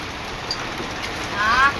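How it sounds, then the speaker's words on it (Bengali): Steady rain patters down outdoors in a continuous wash of drops, with a brief faint tone partway through and no distinct speech. "দেখো আকাশ বাবা বৃষ্টি পড়ছে এইভাবে মা গো"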